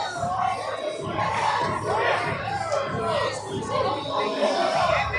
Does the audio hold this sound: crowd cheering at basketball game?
yes